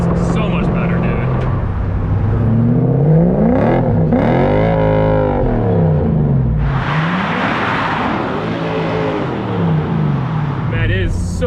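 A drift truck with a welded differential revs hard, its loud engine rising and falling in long sweeping pitches close by, with a burst of rushing noise midway; people talk over it.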